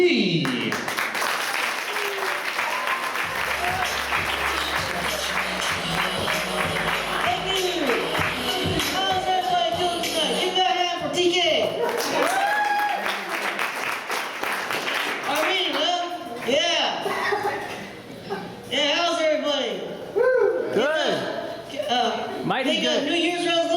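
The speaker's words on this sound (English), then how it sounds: "Let's get a nice, large round of applause." Applause from a small audience at a comedy show in a tea market venue, welcoming a comedian, heard mostly under an emcee's talk and later under his own speech, fading in and out.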